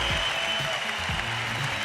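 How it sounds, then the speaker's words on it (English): Audience applause at a MotoGP awards gala in Valencia, greeting the Moto3 world champion: a steady, dense wash of clapping filling the hall, with faint voices mixed underneath. "This is your applause."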